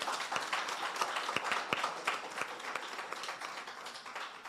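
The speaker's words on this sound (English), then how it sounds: "Clap it." Seminar audience clapping at a trade export event, a steady roomful of applause with a few sharper individual claps standing out, moderately loud and gradually easing toward the end.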